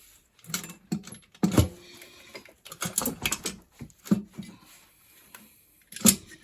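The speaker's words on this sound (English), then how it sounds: "with all of the manifold bolts pulled, I should be able to pull this whole thing right off" Clattering and scraping as an unbolted intake manifold is pulled off a Mitsubishi Montero engine, with irregular close metallic knocks, rattles and clunks in bursts, loudest around the middle and end.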